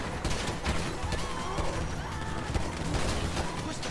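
Rapid gunfire in Grand Theft Auto V, a dense, continuous burst of shots and impacts running loudly throughout with no pauses.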